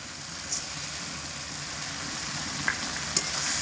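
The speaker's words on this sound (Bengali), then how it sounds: "ডাল দিয়ে মোটামুটি ডাল দিয়ে মশলার সাথে দু মিনিট মতো ভালো করে কষিয়ে নিয়েছি মিডিয়াম আঁচে রেখে" Red lentils fry with spices over medium heat in a pan, giving a steady, even sizzling hiss up close with a few faint clinks, no voices.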